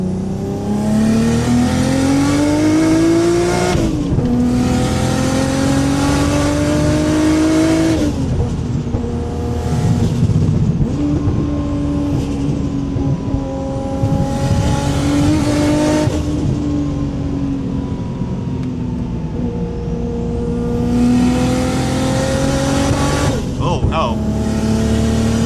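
Inside a Mazda RX7 FD while driving, the engine drones loudly and rises in pitch through repeated pulls, then drops back between gear changes. Toward the top of the revs it sounds slightly rough, as if misfiring, and a voice talks under the engine noise.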